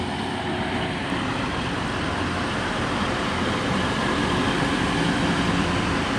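A TransPennine Express Class 185 diesel train runs at Selby, giving a steady, dense rumble and rolling noise that stays loud and even throughout, with no talking.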